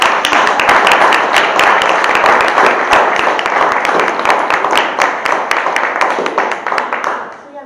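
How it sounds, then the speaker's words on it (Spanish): An audience at a talk on painting in Argentina bursts into sustained, dense applause with many sharp claps, loud and close, tapering off toward the end. "eso merece un grandísimo aplauso"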